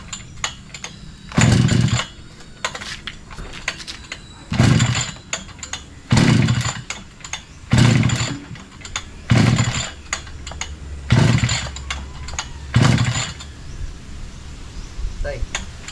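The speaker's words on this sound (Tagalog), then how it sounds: "Pinapandar ko yung grass cutter" A small gasoline grass cutter engine is pulled repeatedly, giving about seven short bursts of sputtering cranking that never catch and run, each separated by a pause, while people talk nearby.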